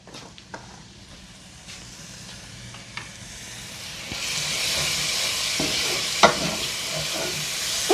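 Shrimp and sun-dried tomatoes sauté in a hot pan, giving a steady sizzle and hiss that builds louder over several seconds, with occasional stirring clicks and no talking.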